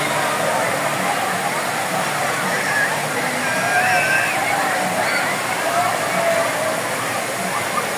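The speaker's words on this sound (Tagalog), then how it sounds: "Mabinay Spring Falls." Water pouring at Mabinay Spring Falls, a spring-fed waterfall, making a constant, even rushing hiss close by, with a person talking over the flow.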